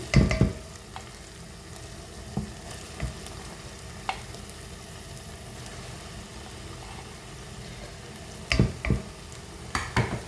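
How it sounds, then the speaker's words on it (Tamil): Boiled wheat being stirred into chicken frying in a pan for chicken kothumai, with a steady low sizzle and several sharp scraping clatters of the utensil near the start and end. "அவிச்சு வச்ச கோதுமை இதில் போட்டு பிரட்டுவோம்."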